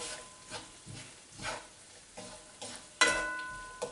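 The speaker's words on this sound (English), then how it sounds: "And then just give that a stir in" Courgettes with a touch of lemon get stirred in a pan: several soft scraping strokes in a loose rhythm under a faint sizzle, then a sharp clink of a utensil near the end.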